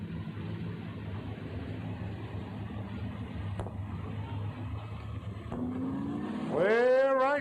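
V8 dirt modified race cars roar around Lismore Speedway in a steady engine drone, swelling louder near the end as a car revs and accelerates up close, with a commentator's voice over the racket.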